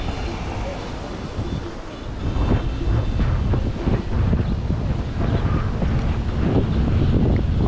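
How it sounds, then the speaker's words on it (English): Strong wind buffets the microphone on a street walk in Tarpon Springs, a continuous loud rumbling roar that swells louder midway and stays heavy throughout. "Pretty windy today, so if you can't hear me"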